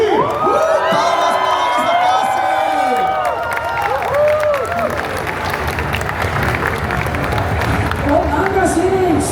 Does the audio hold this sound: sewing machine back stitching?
no